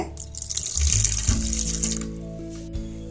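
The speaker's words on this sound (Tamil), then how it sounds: "இப்போ இந்த இறால் மூங்குற அளவுக்கு கொஞ்சமா தண்ணி சேர்த்துக்கோங்க." Water poured from a tap onto prawns for prawn varuval, a short close splashing rush that swells and then tapers into a softer trickle and drips.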